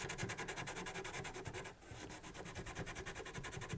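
Silver jewelry is rubbed firmly and fast back and forth on sandpaper atop a bench peg, a steady rapid rhythmic scratching at close range with one brief pause midway, no voices.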